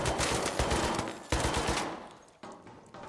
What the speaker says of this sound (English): That was a warning shot.